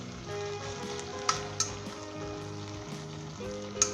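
Tomato ketchup pasta with chopped coriander and green chilli is stirred in a hot pan, giving a steady close sizzle with soft scraping and a few sharp clicks from the spoon.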